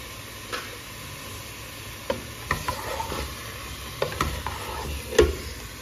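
Tomatoes frying in a pan make a soft steady sizzle, broken by several sharp clicks and scrapes of stirring, near and moderately quiet, with no voices.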